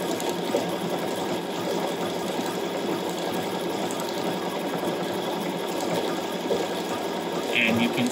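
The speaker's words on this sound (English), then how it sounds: "when we're ready to sew out this name, we can just simply hit our foot control and it is going to start sewing" A Bernina B770qe embroidery machine stitching out a name gives off a steady, close mechanical whir and rapid needle chatter throughout, with a brief louder bump near the end and no clear talking.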